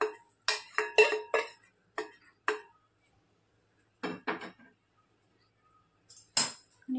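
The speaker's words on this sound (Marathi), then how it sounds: "आणि व्यवस्थित पुन्हा सगळं मिक्स करून घेते." A spoon mixes the tempering into poha in a bowl, giving a series of crisp clinks and scrapes in short bursts separated by silent pauses.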